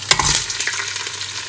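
Garlic, ginger and tomato fry in a pan while being stirred, giving a close, steady sizzle with scraping spoon strokes for a brief moment, no voices.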